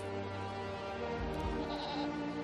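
Goat bleating near the Dead Sea shore among a Bedouin shepherd's flock, a single moderately loud call heard alone over a steady background.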